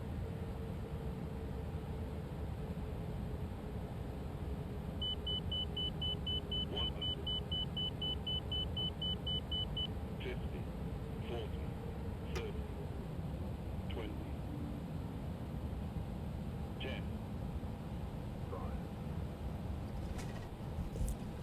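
Pratt & Whitney engines of a Toliss A321neo airliner in X-Plane 11, a steady broadband roar with low rumble throughout landing, faint beeps and clicks scattered on top, no talk.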